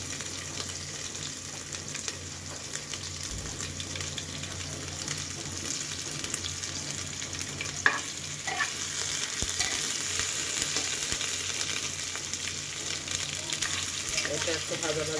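Ginger-garlic paste frying in a pan for a chicken curry with potato and papaya, giving a steady close sizzle with occasional stirring scrapes and one brief clink, no talk over it.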